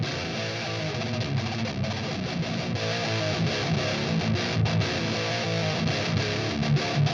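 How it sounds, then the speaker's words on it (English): Distorted electric guitar played through a Diesel Herbert amp plugin, a dense, gritty riff that stays loud and steady throughout with no talking. "The Diesel Herbert, amazing amp as well, which sounds like this."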